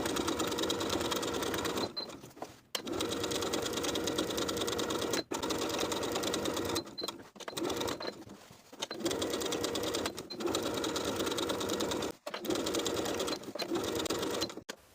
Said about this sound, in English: we're going to top stitch all the way around with a 1/4 inch seam allowance